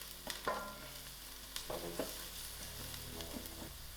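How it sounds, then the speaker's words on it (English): Crushed garlic sizzles quietly in a pan as a spoon stirs it, with several scraping strokes over a constant soft frying hiss and no voices. "I'm going to put in my crushed garlic. Give this a nice mix."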